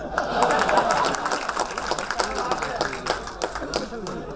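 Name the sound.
audience applause at a comedy show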